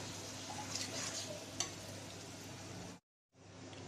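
Dried fish goes into a pan of fried ginger-garlic paste and spices, giving a soft, low sizzle with a few stirring clinks, broken by a brief silent gap near the end before the frying resumes.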